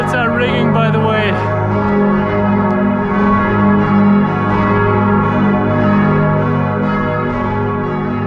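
Church bells ring continuously with layered, sustained tones, loud and close, at an outdoor Christmas market in Osnabrück, Germany, with a faint voice briefly at the start.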